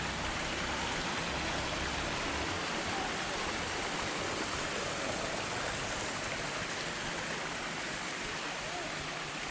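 Strong rushing water pours down Balagbag Falls in a dense, steady roar, heard close and continuous with no break, with no voices over it.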